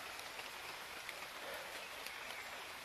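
Steady rain falls outdoors among coconut palms, a faint, even hiss with scattered small drop ticks and no speech.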